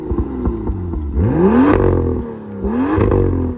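A BMW M2 exhaust revving hard up close, a burbling idle rising into two swelling climbs in pitch with crackling between them, loud and alone.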